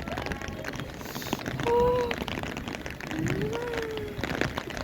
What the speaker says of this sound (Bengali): এখন প্রচন্ড বৃষ্টি হচ্ছে